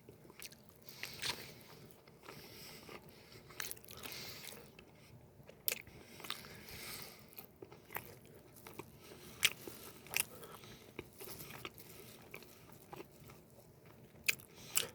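Close, quiet bites and chewing of a soft, slightly oily store-bought pumpkin rice cake, with irregular sticky squishes and small crunchy clicks scattered throughout and no talking.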